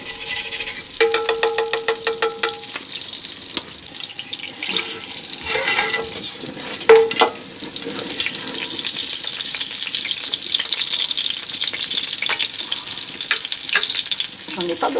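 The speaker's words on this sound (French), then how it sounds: "c'est le beurre qui servira à faire frire les croûtons" Croutons frying in butter for a traditional poulet aux huîtres d'Oléron, a bright continuous sizzle and crackle with scattered clinks and scraping of utensils.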